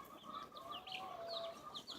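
Backyard chickens cluck softly in a brief burst of faint, tonal calls and short chattering notes that rise and fall, with no one speaking.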